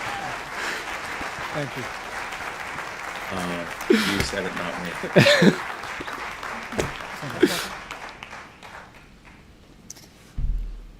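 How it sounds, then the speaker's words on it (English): Audience applause rises and fades at a vice-presidential debate, moderate and somewhat distant, with speech and a few louder bumps breaking through. "Clap for that, you stupid bastards."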